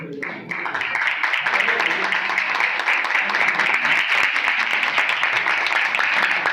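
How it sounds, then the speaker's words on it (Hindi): A congregation at a healing meeting breaks into loud, sustained applause for an honoured guest, a dense, even roar of clapping that swells in after a brief lead-in and continues steadily. "और साहब के लिए जोरदार तालियां।"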